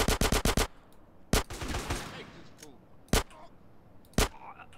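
Gunfire in GTA: San Andreas: a rapid burst of five or six shots, then single sharp shots spaced a second or so apart, loud and close, with some faint background noise between them.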